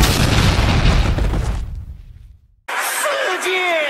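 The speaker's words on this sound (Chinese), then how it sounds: "你竟然拿锤子敲鞭炮" A cartoon firecracker struck with a hammer goes off in a loud, dense burst lasting about a second and a half, then fades and cuts to brief silence before animated voices resume.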